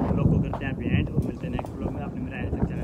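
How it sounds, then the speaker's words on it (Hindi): Wind blows outdoors, buffeting the microphone with a constant low roar and gusty rumble, while a voice talks faintly underneath. "मौसम देख लो भाई हवा चल रही है अभी पूरी"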